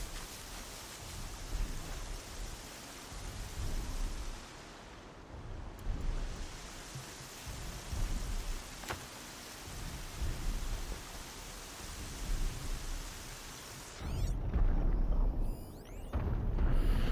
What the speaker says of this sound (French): Ah bah non, il pleut, putain.